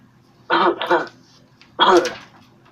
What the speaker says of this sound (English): With a hawk and spit, you clear your throat of the blood.